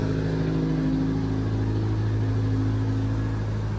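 A Perodua Kembara turbo with a single straight-pipe exhaust drones steadily while driving, a loud, even low engine hum from inside the cabin with no change in pitch.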